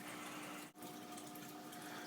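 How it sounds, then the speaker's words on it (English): An aquarium filter in a Mississippi map turtle tank pushes out a fast stream of water, a steady close rushing and bubbling wash with a faint electrical hum beneath it and one brief dip near the start. "So the water just zips right out of there."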